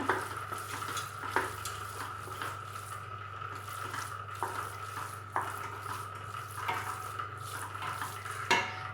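A spoon stirs cashews into ven pongal in a pot, giving repeated scraping and clinking strokes against metal over a steady low hum, close and moderately loud with no talk.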